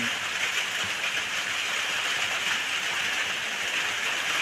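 Heavy rain pours steadily near a fish pond and frog pens, a dense, even hiss with no break, loud and close, with no voices over it.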